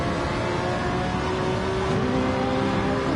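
Race car engine roaring steadily in a sim racing GT sprint on a Sardegna street track, with continuous high revs and rising pitch as the throttle is pressed, loud and close throughout.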